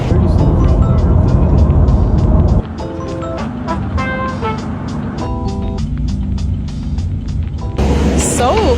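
Busy street traffic in Shanghai with many electric cars: a steady roadway rush and passing vehicles, with horn-like tonal beeps and a loud burst near the end, heard close by with no talk over it.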